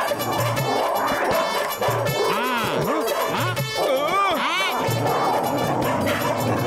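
Several cartoon dogs bark, yip and whimper in a bright, sound-effect style over background music, with a crash mixed in.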